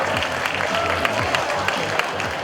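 Audience applause and cheering at a 2015 Taiwan popping dance battle final, continuous crowd clapping and noise over a thumping music beat.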